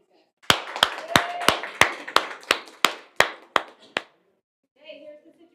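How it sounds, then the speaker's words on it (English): A dozen sharp, evenly spaced claps ring out at a sales-training role-play session, close and steady before stopping abruptly, followed by a brief murmur of voices. "Round of applause for these guys"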